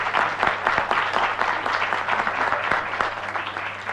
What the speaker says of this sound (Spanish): Les vamos a recibir con un fuerte aplauso